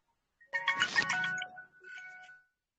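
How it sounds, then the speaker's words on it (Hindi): A mobile phone rings during a classroom geography lesson, a short bright electronic melody of chiming tones that swells and fades within about two seconds, heard clearly in an otherwise quiet room. "किनका फोन बज रहा है?"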